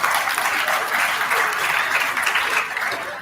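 An audience at a Salesforce job-readiness launch event applauds steadily, a dense, even wash of many hands clapping that holds throughout with no talk over it.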